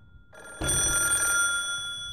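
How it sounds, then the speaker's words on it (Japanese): An old black rotary telephone rings in a school janitor's room in a horror game, starting faint then jumping to a loud, sustained metallic bell ring that continues steadily to the end. "用務員室電話鳴ってるよ"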